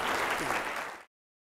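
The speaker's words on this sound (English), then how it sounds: "please give a warm round of applause to our speaker, Frédéric Villani" A lecture audience applauds a mathematics speaker with dense, steady clapping that fills about a second before cutting off abruptly.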